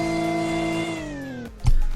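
Simulated 1996 BMW M3 engine in a Roblox game revving, a steady high tone sliding down in pitch as revs fall, then a short low thump, no talk.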